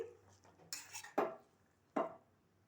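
A utensil scrapes and knocks against a wok while grated carrot is stirred into milk, a few soft clatters and two sharper taps, quiet and close with no speech.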